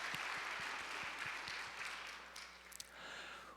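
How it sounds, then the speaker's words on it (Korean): A church congregation at a Sunday morning worship service applauds, a soft, distant wash of clapping that fills the room evenly and fades slightly toward the end. "하나님께 영광의 박수 올려드리겠습니다."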